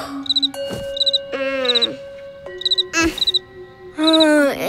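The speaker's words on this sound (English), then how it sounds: "It's impossible to fall asleep with that cricket." A cartoon cricket chirps in short, loud, repeated bursts of rapid trills, alternating with sung, tonal voice passages in a playful animated scene.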